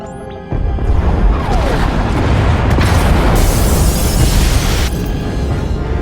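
Pod bays blowing up in Star Wars: The Old Republic, Knights of the Fallen Empire, bursting into a loud, sustained explosive roar with crackling debris that holds for several seconds before easing slightly.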